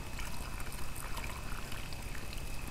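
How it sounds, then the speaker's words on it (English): Water pours steadily into a Dutch oven over a beef roast with onions and garlic, a faint continuous splashing trickle with no speech. "and our water, we'll pour that in there"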